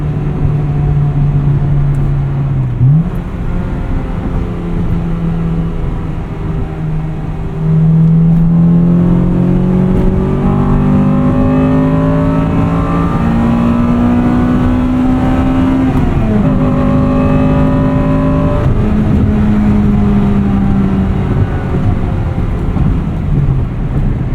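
A 1998 Acura Integra Type R engine pulls hard while driving, its droning note climbing steadily through the revs with brief dips at gear changes, loud and close with no talking.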